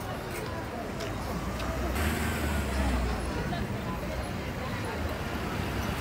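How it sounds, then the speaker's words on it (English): Heavy street traffic dominated by minibus taxis and private cars in central Johannesburg, a dense continuous roar of engines with a swell of a passing heavy vehicle and an air-brake hiss, steady throughout with no clear voices on top. "And there's a huge volume of taxis."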